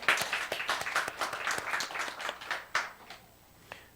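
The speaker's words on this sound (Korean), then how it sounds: "박수 한번 하십시다" Church congregation claps together after a sermon call, a dense burst of handclaps with sharp accents that thins out and fades toward the end.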